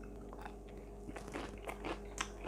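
Crisp crunching bites into vegan nachos, several sharp crackly snaps in quick succession up close, with a low steady background hum and no talking.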